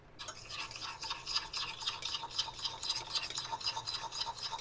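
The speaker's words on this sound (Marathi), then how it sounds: "आणि हे चांगलं फेटून घेणार आहे." Cornflour batter for karanji being beaten by hand in a bowl, a fast, steady scraping and slapping rhythm, close and fairly quiet, with no one talking.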